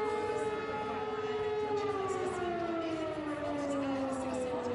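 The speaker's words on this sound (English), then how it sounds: "Well, the sirens are ringing out. That's the midday call." A civil defense siren sounds the midday call at a distance during a live mountain bike race broadcast, its wailing tone slowly sliding downward, with faint background chatter underneath.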